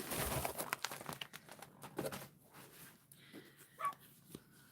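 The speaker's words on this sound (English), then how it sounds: "And my dogs are going nuts." Pomeranians bark excitedly in short bursts indoors, mixed with crinkling and tearing of packaging during an unboxing, moderately loud and uneven throughout.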